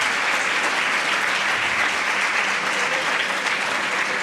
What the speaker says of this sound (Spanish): Brindémosle un fuerte aplauso al licenciado Héctor Jaime Treviño por esta interesante